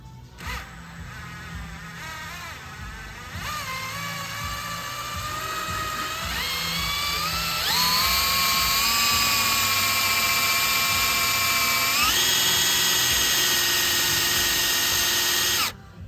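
A power drill bores a rivet hole through metal, whining steadily close by and rising in pitch as the bit bites harder, running continuously for about sixteen seconds before cutting off.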